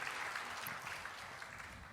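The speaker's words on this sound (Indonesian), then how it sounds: "Tolong tepuk tangan kepada dia sekali lagi." Audience clapping at a Bible seminar, heard as a faint, distant, steady wash of many hands that fades slightly toward the end.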